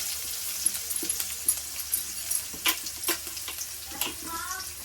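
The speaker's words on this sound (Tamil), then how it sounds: "வெங்காயம் போட்டு நல்லா வதக்கிட்டு" Onion and green chilli frying in a pan, a soft sizzle broken by intermittent stirring scrapes and clinks, fairly quiet and close, with no voice over it.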